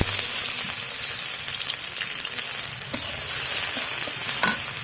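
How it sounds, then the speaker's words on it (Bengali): Chickpeas frying with chopped onion in a pan, giving a continuous close hissing sizzle with scattered small pops and stirring clicks, no voices. "এই ছোলা ভুনে নিব, দিয়ে দেবো পেঁয়াজ কুচি"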